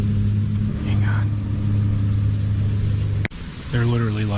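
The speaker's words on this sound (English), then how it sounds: "Engines passed far too close while flashlights flicked through the rows, only a few yards away" At night near a campsite, vehicle engines hum steadily close by, a loud sustained drone that briefly cuts out and then returns, with faint voices underneath.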